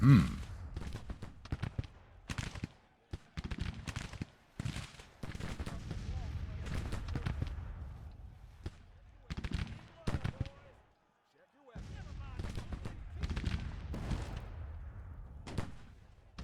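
A Williams gun, an early Civil War rapid-fire weapon, firing during a battle in the strategy game Grand Tactician: The Civil War, sharp repeated reports in bursts with gaps, mixed with distant battlefield gunfire and someone talking over it.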